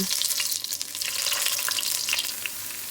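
Beef-qeema stuffed karela (bitter gourd) frying in oil, a dense, bright, close sizzle that carries on without a break for a few seconds, with no speech.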